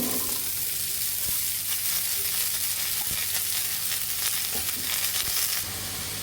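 Steady, loud sizzling of pumpkin pieces frying in hot oil with black cumin seeds, with a few sharp scraping or stirring knocks scattered throughout. No voices.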